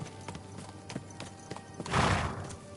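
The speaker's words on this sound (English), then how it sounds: "There's an actual horse." Horse hooves clip-clopping with a whinny in the Kingdom Come Deliverance 2 video game, steady hoofbeats throughout and a louder neigh swelling near the end, heard alone without talk.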